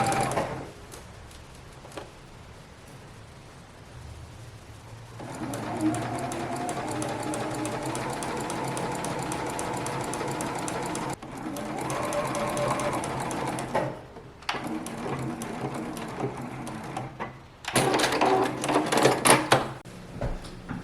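A sewing machine stitches a seam on a 1990s-style playsuit from a vintage pattern, running in a steady, fast mechanical whir. The run breaks off in brief pauses and restarts, with a louder, rattling burst near the end.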